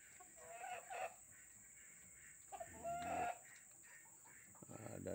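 Chickens clucking in a coop beneath a farm garden, several short bursts of clucks and squawks in a loose, irregular rhythm at moderate distance over steady background hiss.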